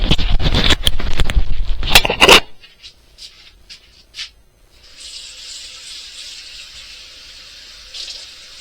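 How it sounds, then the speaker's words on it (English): Tap water splashes loudly into a bowl for about two seconds, then cuts off, leaving a few faint clinks and a soft, steady hiss in a kitchen. "I added a little more water to it."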